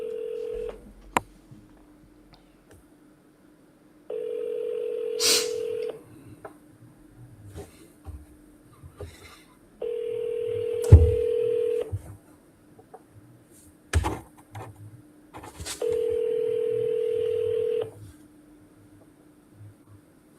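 Phone call tones through a handset: three long, steady ringback tones with gaps between them and several brief sharp clicks and knocks in between, all quiet and with no talking.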